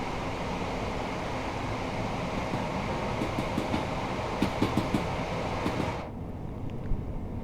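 A Class 387 Gatwick Express train in Train Sim World's London Commuter route rumbles steadily along the track with a broad, continuous roar and faint rhythmic clicks from the rails, the sound dropping away sharply near the end.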